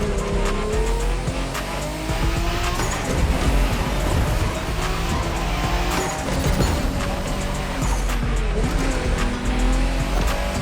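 Race car engines roar continuously in The Crew Motorfest video game, with tires squealing and skidding through corners over a loud, steady mix of engine whine and road noise, no voices.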